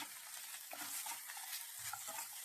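Dry ginger powder being stirred into beetroot halwa in a pan, a soft, steady scraping and mixing texture with faint sizzle, close and continuous with no talk.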